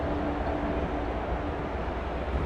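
A subway train runs steadily in the game Love and Deepspace, a constant loud rumbling roar with no breaks.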